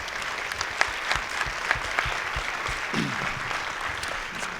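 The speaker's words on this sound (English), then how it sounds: "Let's give the panel a nice round of applause." An audience at an evening panel discussion applauds steadily, a dense, even wash of clapping from the crowd that holds for the whole stretch without any talk over it.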